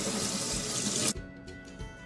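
Kitchen tap running into a sink for hand washing, a steady close hiss of water that cuts off after about a second, leaving faint room noise.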